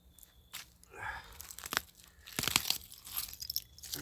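Broken glass and debris crunch and scrape as someone digs through an old city dump, with irregular close crunching and rattling bursts at moderate loudness and no talk.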